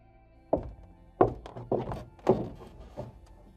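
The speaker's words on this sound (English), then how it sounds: "I realized that the thumping was a lot louder now, and directly above me" Thumping sound effect in an animated horror story, several heavy dull knocks from above at uneven intervals, moderately loud against a quiet background with no voices.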